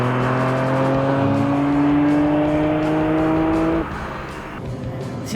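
Honda NSX engine revs hard toward 8,000 RPM, a loud rising harmonic wail that holds steady, then drops off sharply as the throttle lifts near the end, leaving a lower idle-like drone.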